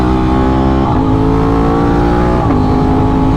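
A loud engine revs hard and climbs in pitch, dropping briefly between quick-shifter gear shifts, as a 2024 Aprilia RS660 Trofeo motorcycle accelerates close by.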